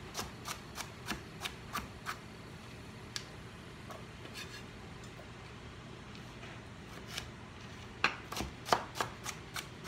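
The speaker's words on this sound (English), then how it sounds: "So cut it into smaller pieces than what you did with the cauliflower." A knife chops a vegetable into small chunks on a board for boiling, giving a quick run of crisp, evenly spaced knocks, then a sparser stretch, then another cluster of strokes near the end.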